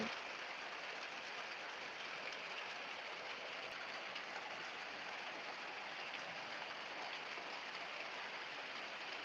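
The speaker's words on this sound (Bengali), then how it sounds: "এত বৃষ্টি কার কার কোথায় কোথায় হচ্ছে অবশ্যই জানিও লিটারেলি ধোঁয়া বৃষ্টি" Heavy rain pours steadily in a dense, even hiss with no break, faint and distant.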